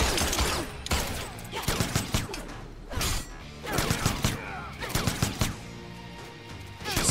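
Gunfire rattles through a Mortal Kombat X tournament match, with loud bursts of rapid shots and crashing impacts coming in clusters over roughly seven seconds, with no pause in the noise.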